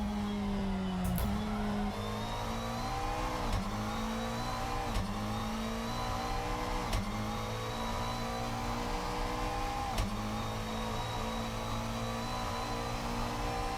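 Modded GT3 race car engine in the Assetto Corsa racing game at Suzuka, revving steadily and loud throughout, with repeated rising pitch sweeps and sharp gear-shift dips every second or two, no voices.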